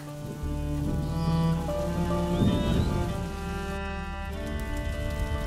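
Rain pours in A Plague Tale: Innocence, a loud, continuous rushing wash that persists through the whole stretch, mixed with sustained orchestral music tones and no speech.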